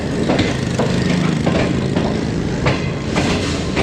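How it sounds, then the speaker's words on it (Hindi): The 28 Down Shalimar Express rolls into Kot Lakhpat railway station with a loud, steady rumble and repeated clacks of wheels over rail joints. "पहला स्टॉप करने जा रही है 28 down Shalimar express coat Lakhpat railway station पे।"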